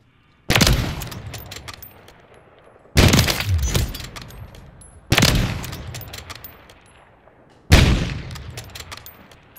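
Four heavy rifle shots ring out at a video game shooting range, spaced about two seconds apart, each one a loud sharp crack followed by a rolling echo that fades before the next.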